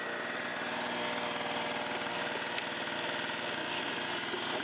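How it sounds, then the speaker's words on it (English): A gas generator engine runs steadily, a continuous mechanical drone with fine rapid pulsing, moderately quiet and close, with no talk. "generator pump / motor."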